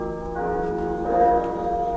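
Ringing bells sustain a steady, resonant tone amid a ceremonial pomp-and-circumstance setting, sounding moderately near and continuous with no voices over them.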